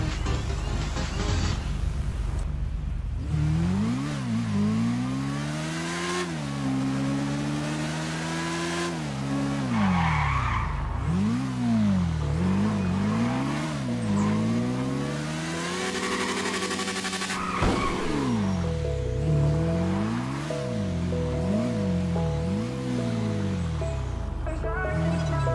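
A Yamaha R6 motorcycle in the video game GTA V revs hard through a speed test, its engine rising and falling in repeated sharp acceleration sweeps and gear shifts, loud and continuous throughout.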